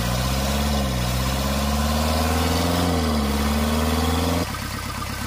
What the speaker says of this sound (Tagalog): Kita talaga natin na sobrang palyado yung engine.